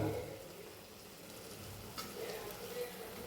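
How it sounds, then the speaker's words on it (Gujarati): Soaked puffed rice goes into spiced masala in a hot pan, producing a soft, steady sizzle with light stirring and a couple of small scrapes, fairly quiet and close, with no talking. "હવે આપણે એમાં નાખીશું આપણા પલાળેલા મમરા."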